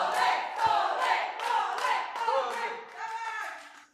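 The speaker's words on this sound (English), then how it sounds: "You can hear the crowd going wild" A crowd at a PAA Warzone Scotland event cheering and shouting wildly in repeated loud bursts, close and dense, with cries rising and falling over about four seconds.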